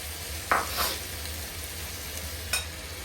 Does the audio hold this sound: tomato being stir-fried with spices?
yes